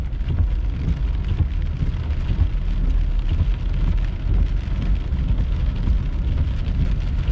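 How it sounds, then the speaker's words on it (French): Heavy rain during a thunderstorm in Sainte-Catherine, Quebec, a dense, steady roar of rainfall with low rumble, loud and unbroken throughout. "pluie à Sainte-Catherine."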